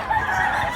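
A blue-legged rooster at a chicken market gives a short, loud crow or cluck, close by and lasting under a second with no talk over it.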